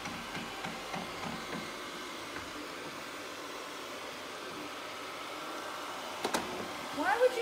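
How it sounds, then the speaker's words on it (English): A robot vacuum cleaner runs with a steady, quiet whirring hum at a distance, with a few soft knocks near the end. "I gave up on watching the vacuum cleaner."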